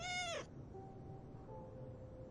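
A cat meows once, short and clear, in the video game Everyday Devil, followed by quiet ambient game tones.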